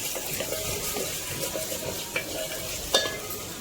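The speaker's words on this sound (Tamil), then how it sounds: "வெங்காயம் நல்லா வதங்கட்டும்." Onions sautéing in a pan, a steady close sizzle with light stirring scrapes and a couple of soft clinks.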